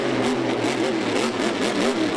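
A monster truck engine refires at a freestyle event, settling into a loud, continuous mid-pitched drone with wavering revs that rise and fall throughout, close and unbroken.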